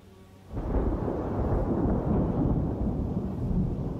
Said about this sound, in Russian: Когда он в нее садится, начинает грохотать и сверкают молнии.